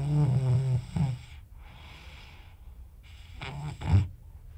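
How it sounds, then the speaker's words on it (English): A person snores loudly in two rough, rattling bursts with a softer breathy exhale between them, all close and unaccompanied. "snoring real bad"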